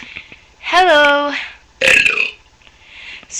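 A girl burps loudly and close up: first a long, drawn-out tonal belch, then a shorter, rougher one after a brief pause.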